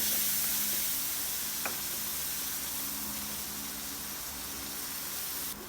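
Small shrimp (ipon) sizzle steadily in a hot pan while a vegetable sauté with bottle gourd (upo) is being cooked, a loud, continuous close-up frying hiss with no talking.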